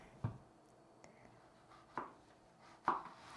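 Three sharp, separate knife chops through zucchini on a cutting board, spaced unevenly and quiet, with faint small taps between them and no speech.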